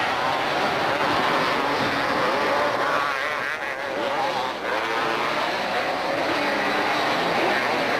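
Motocross motorcycles racing at Mammoth Mountain in 1989, a steady loud roar of revving engines from a pack of bikes with rising and falling whines, heard under an announcer's commentary.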